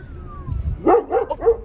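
A large dog on a street in Turkey lets out a short run of sharp, close barks, three or four in quick succession after a brief low rumble.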